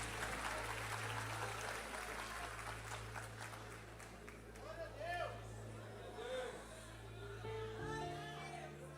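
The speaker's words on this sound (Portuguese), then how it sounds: "Os que podem, tomem o seu assento aplaudindo a Jesus, porque Ele é bom" A Pentecostal vigil congregation applauds Jesus while taking their seats, clapping spread through a large crowd under loud speech and crowd noise, with a sustained tone running beneath.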